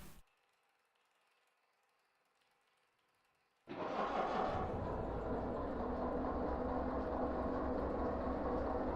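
Locomotive engine in the train game Derail Valley, silence and then a sudden start into a steady mechanical rumbling drone that holds at even loudness to the end.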